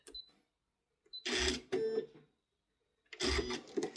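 A sewing machine with a darning foot stitching green top thread in two short bursts of rapid mechanical whirring, separated by quiet pauses, close up and fairly soft.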